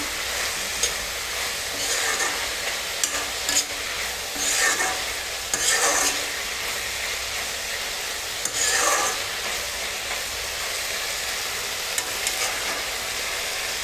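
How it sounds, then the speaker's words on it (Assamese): Chickpeas frying and being stirred in a pan with fiddlehead ferns and tomato, giving a steady close sizzle broken by scraping strokes of the spoon every few seconds, with no talk. "বুট দিয়াৰ পিছত অকণমান লৰাই দিম"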